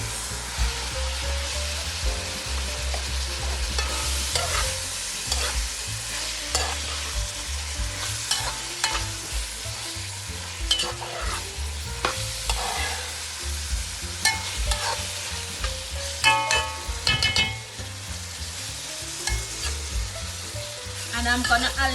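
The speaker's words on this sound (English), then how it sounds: "I'm gonna allow that to fry for a little bit." Beans frying in a pan while making rice and peas, a steady close sizzle with stirring scrapes and clinks throughout, no talking.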